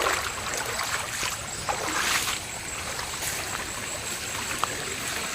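Water of a stream in Thailand or Laos flowing and trickling in a steady, full rush, with light splashes now and then and no voices.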